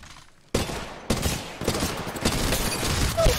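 Rapid gunfire from the mobile shooter Apex Legends Mobile, starting abruptly after a brief quiet lead-in and continuing as dense, sustained bursts of loud shots, with a short electronic tone near the end.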